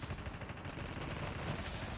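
Dense, rapid gunfire in Call of Duty Mobile crackles continuously at a moderate distance, with bursts overlapping in a steady rattle.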